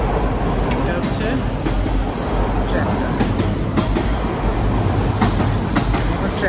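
A train runs along the tracks near a subway station in a Bangladeshi neighbourhood at Teasdale Place, a loud, steady rumble with rail clatter filling the whole stretch.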